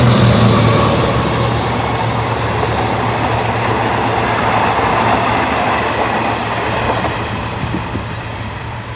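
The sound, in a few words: GEK 4038 locomotive hauling a train into Nong Pradu junction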